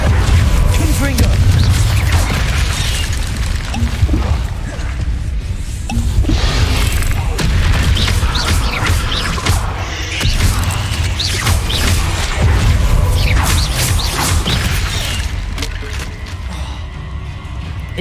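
Confringo fire spells cast again and again in Hogwarts Legacy, loud and close, with booming blasts and crackling debris over steady game noise and a low rumble, while someone talks.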